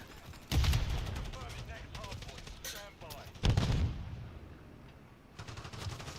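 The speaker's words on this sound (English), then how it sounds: "There's a sentry gun there." Sentry gun fire in Call of Duty Modern Warfare III: loud bursts of rapid automatic gunfire, with two heavy onsets, under raised voices and other game noise.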